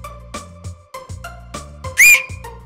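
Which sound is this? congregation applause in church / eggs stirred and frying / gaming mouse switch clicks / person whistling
person whistling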